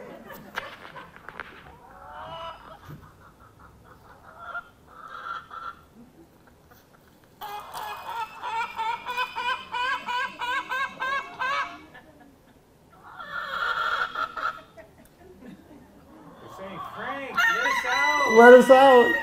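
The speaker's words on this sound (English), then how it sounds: "This is the chickens this morning." Hens cluck and squawk in bursts while a rooster lets out repeated loud crows nearby, the last one strongest.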